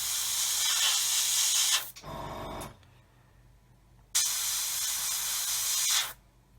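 An aerosol can sprays a gloss coat onto the dashboard of a 1/35 Tamiya Willys Jeep model in two steady, close hissing bursts of about two seconds each, separated by a quiet gap with a brief low clatter.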